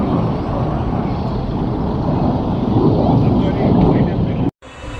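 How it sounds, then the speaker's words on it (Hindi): A helicopter flying over Jodhpur city near Umaid Bhawan Palace gives a loud, steady broadband rumble that swells slightly and then cuts out abruptly near the end. "ये देखिए हेलीकॉप्टर उड़ रहा है यहाँ से"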